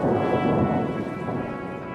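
Heavy rain falls with a deep, rolling rumble of thunder, loud and steady throughout the short stretch, with no talking.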